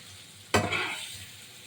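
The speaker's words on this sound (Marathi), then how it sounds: "गॅस थोडा स्लो करून घ्यायचा आहे आणि छान सगळं परतवून घ्यायचं" A spoon stirs stuffed eggplant masala in a pan over a low flame in a traditional Maharashtrian dish, giving one quick close scrape over a soft, steady sizzle.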